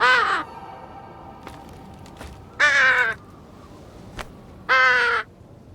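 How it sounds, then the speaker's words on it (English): A crow in a Nancy Drew game at Castle Malloy gives three loud, harsh caws, evenly spaced a couple of seconds apart. Each call sounds close and stands alone over quiet background ambience. "I think the crow is telling us to go away."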